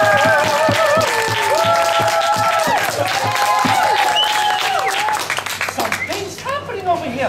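Audience at a King Arthur and the Holy Grail stage show claps and cheers loudly and steadily, with a performer's voice over the applause, which thins out toward the end.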